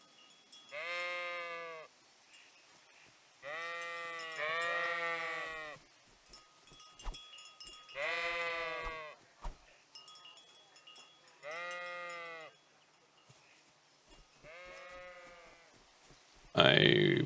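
In the game Kingdom Come: Deliverance, several drawn-out sheep bleats come in separate bursts with pauses between, followed by a sudden loud noise at the end.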